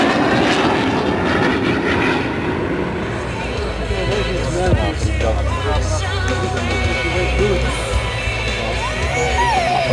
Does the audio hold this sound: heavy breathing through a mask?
no